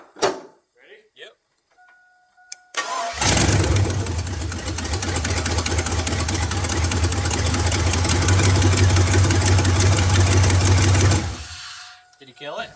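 A Silverado truck engine on an abandoned mud-rig build cranks to life, then idles loudly and steadily at close range with a rough, throaty rumble for about eight seconds before being shut off. Brief voices come before it starts.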